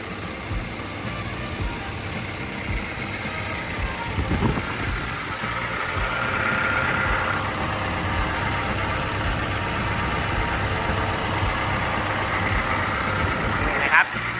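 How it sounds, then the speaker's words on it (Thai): The Hino engine of a Kobelco SK210DLC-8 20-ton excavator idles with a steady, even rumble close by for the whole stretch, while someone talks over it. "พวกเสียงเครื่องนะครับการทำงา นของตัวเครื่องยนต์ของเขานะครับก็ทำงานได้แน่นนะฮะนิ่มดีปกติ"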